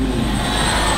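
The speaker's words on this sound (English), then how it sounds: "This plane will go 100 miles an hour." A Flite Test Quadshot RC plane flies past doing a knife edge, giving a steady, loud motor whine with a sustained hum for about a second.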